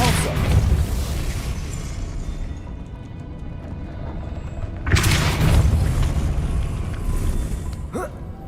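A Depulso force spell blasting in the video game Hogwarts Legacy, two loud booming bursts several seconds apart, each with a rushing, crashing tail over steady game ambience.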